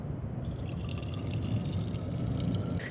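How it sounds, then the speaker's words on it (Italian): Boiling water pours steadily from a thermos into an aluminium bottle, a continuous close gurgling fill running the whole stretch, loud and alone. "Quindi adesso travaso l'acqua da uno all'altro"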